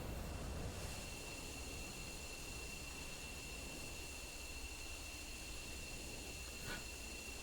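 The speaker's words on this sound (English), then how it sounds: "we see Rossman in the F-15 landing gently on the ground" An F-15 jet in a video game lands on a short runway, its engine a faint, steady roar with a high whine over it, distant and even, with one brief swoosh near the end and no talking.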